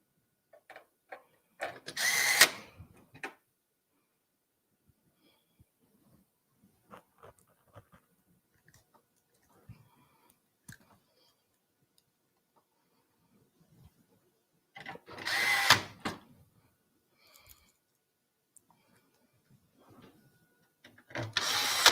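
A power screwdriver drives screws into a computer case in two short, sharp whirring bursts separated by long stretches of faint clicks and handling noise, with another burst starting right at the end.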